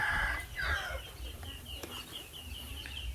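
Chickens cluck repeatedly nearby, a series of short rising calls over a low rumbling background.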